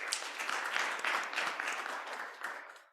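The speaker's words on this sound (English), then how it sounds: "can you just give yourselves another round of applause?" An audience at a Limpopo workshop day gives itself a round of applause, a steady, moderately distant patter of many hands that tapers off toward the end.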